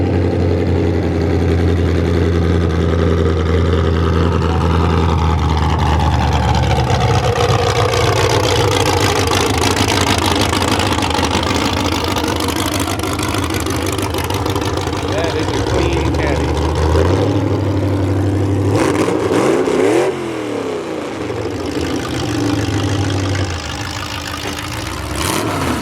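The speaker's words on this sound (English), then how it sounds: "A few more cars pulling up here in the lineup." Several cars, among them a Roadmaster wagon and a Cadillac, pull up into a car show lineup, with loud, close engine idling and revving that rise and fall throughout and a low rumbling drone underneath.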